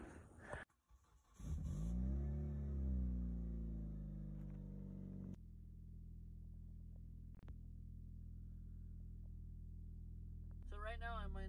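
A car idles while warming up, a car that tends to overheat. A low, steady engine rumble holds for several seconds after a louder surge at the start.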